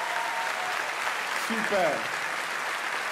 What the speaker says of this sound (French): On l'applaudit, bien sûr.